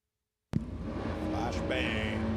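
Two 1970 muscle cars, a Chevy El Camino and an Oldsmobile Cutlass 442, launch in a drag race: after a half-second of silence a sudden loud engine roar starts and holds steady and strong, with a thin whine rising over it.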